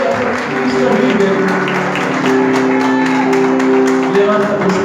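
Applause and cheering rise from a church congregation during a Spanish-language worship service, a loud, sustained crowd sound with voices and sustained music tones underneath and sharper claps standing out.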